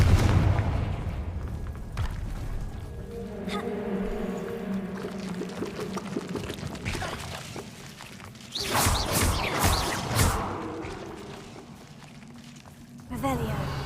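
A Confringo blasting curse from Hogwarts Legacy goes off in a rough, broadband burst that booms for about two seconds, then hits again briefly near the end, over a low murmuring game ambience.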